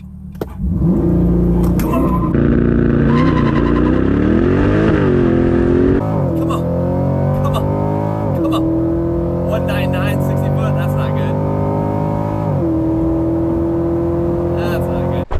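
A C8 Corvette on drag radials launches hard, its engine roaring loudly and climbing in pitch through several gear changes as it accelerates away.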